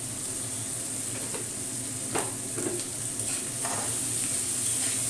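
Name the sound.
onions frying in a pan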